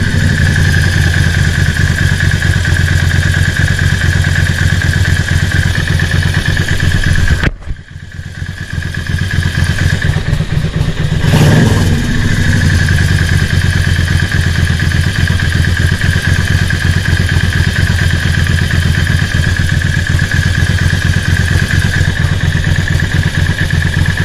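Motorcycle engine idling steadily and close during carburettor synchronisation, a continuous loud mechanical hum that dips briefly around the middle as the throttle is adjusted, then returns to an even idle with no talk.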